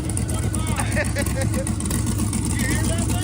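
A big block Chevrolet engine in a sand car runs with a steady, loud rumble, while people chatter nearby over it.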